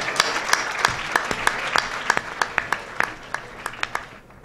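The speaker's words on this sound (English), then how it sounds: "can we give us all a round of applause for showing up?" A small audience applauding at a casual evening civic discussion event in a pub setting, with distinct individual claps standing out against a fairly close, moderately loud clapping bed that thins toward the end.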